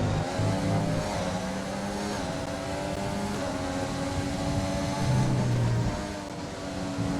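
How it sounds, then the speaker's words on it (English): Formula 1 race car engines roar in the F1 2020 video game at the Belgian Grand Prix, a train of cars in close pursuit, with a sustained high whine that rises and falls and no talking. "Daniel Kvyat and a few other cars, a train of cars behind him, were in close pursuit of our position."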